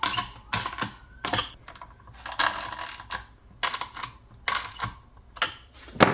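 A deep socket turns a nylock nut on a Starlink mount on an RV roof, producing bursts of sharp, rapid ratcheting clicks in short repeated strokes, close and alone.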